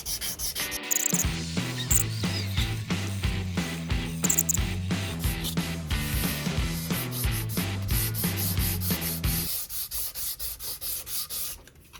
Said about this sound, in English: But let's sand the back whilst we're at it.